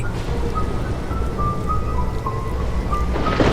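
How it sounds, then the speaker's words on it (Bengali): Heavy rain hisses steadily with a low rumble underneath, while a thin wavering tone drifts faintly through the downpour. "বাইরে শুরু হয়েছে তুমুল ঝড় বৃষ্টি"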